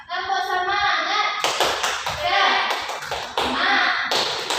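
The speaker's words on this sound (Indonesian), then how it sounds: "Tepuk semangat." A class of visually impaired children does a rhythmic cheer clap, with a drawn-out sung voice first and then sharp bursts of hand taps and claps mixed with children's voices, close and lively.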